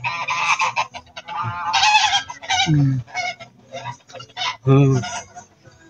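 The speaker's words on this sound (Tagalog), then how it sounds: "Wow, may duck kayo." Ducks call out near the water on a family outing, a run of loud, nasal quacks and honks coming in repeated bursts across the whole stretch, close by and clear.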